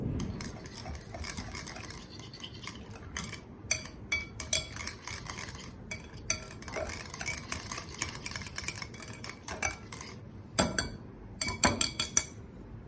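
Banana raita mixed with a spoon in a bowl, a long run of rapid scraping and clinking strokes, close and fairly quiet, with a few sharper taps, no speech.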